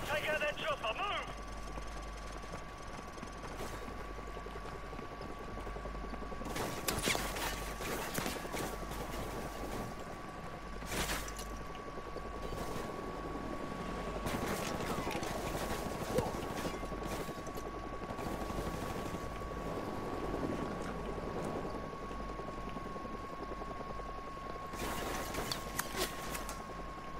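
A helicopter's rotor drones steadily through a battle in Call of Duty Modern Warfare Remastered, with bursts of gunfire and explosions breaking in repeatedly over the continuous engine noise.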